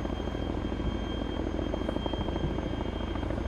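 A helicopter in the ArmA 3 video game sits inside a government compound, its rotor and engine making a loud, steady, close thrumming drone with no talk over it.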